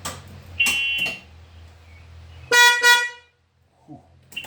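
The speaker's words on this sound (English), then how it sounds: "We didn't test the horn. Let's check out the horn." Horn of a 2016 EZ-GO golf cart, a short electric beep followed by a louder double honk with a brief pause, close by and with no voices.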